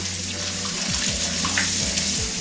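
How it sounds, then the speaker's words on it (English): Tap water running steadily into a bowl to rinse raw oxtail for Jamaican oxtail, a continuous close splashing rush with some low gurgles underneath. "now we're going to add some water to that and give it a nice rinse"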